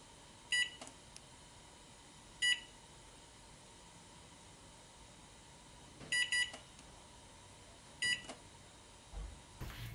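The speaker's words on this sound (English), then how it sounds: "So I'm just going to set a timer for 30 minutes right now." An oven timer being set while cooking broccoli and squash soup gives short, faint electronic beeps, some single and some in quick pairs, spaced a few seconds apart in a quiet kitchen.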